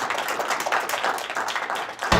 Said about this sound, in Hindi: तो आपसे गुजारिश है तालियों से प्रशंसा करें स्पीकर के लिए